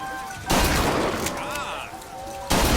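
BioShock Infinite gunfire cracks out in loud, sustained bursts, one at the start and another near the end, with rattling shots and game effects between them.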